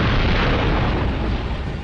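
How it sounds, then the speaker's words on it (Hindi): A loud, sustained explosion of a car roars with deep rumbling and broadband blast noise, with no speech. "तभी उस गाड़ी में एक धमाका हुआ"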